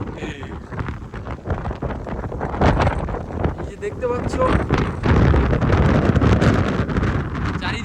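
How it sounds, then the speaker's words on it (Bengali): Strong wind buffets the microphone on the deck of a ship moving at sea near an island, a loud, gusting roar that rises and falls while someone talks over it. "বেশি পাশে যেতে পারছি না প্রচণ্ড হাওয়া হচ্ছে"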